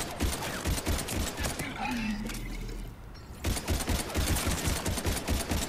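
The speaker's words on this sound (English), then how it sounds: "Why are they shooting me?" Enemy gunfire in the Mass Effect 3 demo rattles in rapid, overlapping bursts, loud and close, pausing briefly midway before the volley resumes over busy combat ambience.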